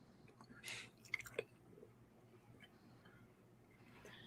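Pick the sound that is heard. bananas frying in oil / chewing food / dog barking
chewing food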